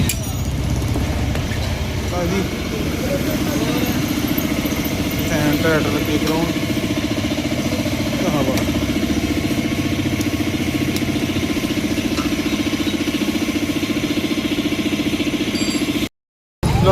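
A motorcycle idling nearby, a steady low chugging throb that runs on without pause, with some metallic clinks and voices talking over it.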